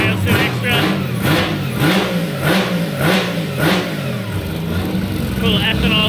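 A three-rotor Mazda RX8 Formula D race car engine starts cold and runs at a loud, lumpy high idle with repeated blips of revving, steady and close throughout.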